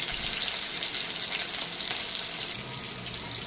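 A bay leaf, a dried chili and chopped tomato fry in hot oil, giving a steady, close hiss and crackle that stays even for the whole moment.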